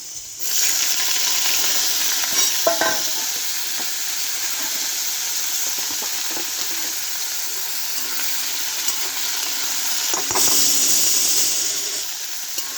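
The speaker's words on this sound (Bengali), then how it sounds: "পেঁয়াজ কুচিয়ে নিয়েছি, জিরে লঙ্কা ফোড়ন দিলাম, এরপরে পেঁয়াজটা দিয়ে দেবো" Chopped onion fries with whole cumin and chili in hot oil for fried pumpkin. A loud, steady sizzling hiss runs continuously with no talk.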